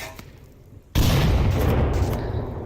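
A grenade bursts in the VR shooter Onward after a quiet stretch, a sudden loud boom that flows into sustained gunfire and rumbling reverberation lasting to the end.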